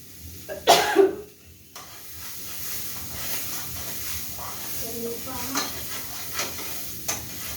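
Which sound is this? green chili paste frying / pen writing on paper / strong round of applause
green chili paste frying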